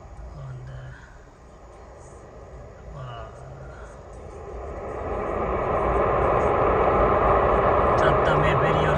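A US aircraft lands in Switzerland, its jet roar building from a distant hum into a loud, broad rushing noise that fills the end, with people talking over the quieter start.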